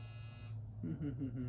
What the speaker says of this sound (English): There's that buzzer again that I was telling you about.